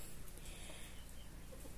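Chickens, hens and young pullets, cluck softly at a distance on a rural farm, a faint scattered clucking set against steady outdoor background noise with no talking.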